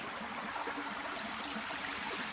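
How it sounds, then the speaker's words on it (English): An outdoor stream flows with a continuous, even rushing and babbling wash of water, moderately quiet and steady, with no talk over it. "Listen to that water."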